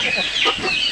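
Native village chickens kept for rearing cluck in short, close, repeated calls, fairly loud and alone.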